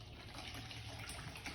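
Alkaline water of pH 11.5 pours steadily into a container as a soft, continuous trickling wash, fairly quiet and close, with no voices over it.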